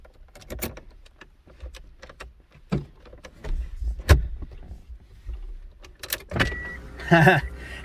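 Clicks and mechanical knocks from inside a 1990 Eagle Talon, then a brief whirring as the motorized seat belt moves near the end, close and fairly quiet.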